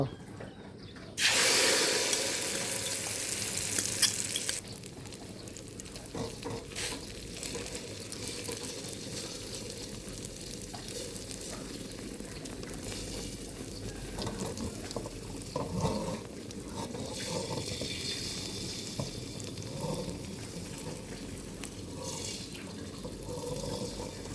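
Cha-om (acacia leaf) omelette frying in a pan, a loud sizzle bursting up as egg hits hot oil and then settling into a softer, steady crackle with occasional pops and stirring over a long stretch.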